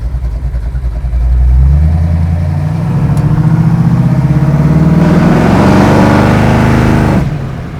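A 1934 Chevy Phaeton engine revs up and pulls away, a loud close rumble rising steadily in pitch as the car accelerates, then cutting off sharply near the end.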